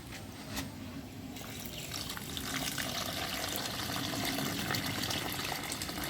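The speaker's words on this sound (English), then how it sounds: "And then we are going to add some water." Water splashes and gushes steadily as it is poured into a cooking pot for rice and peas outdoors, growing slightly louder partway through; no voices.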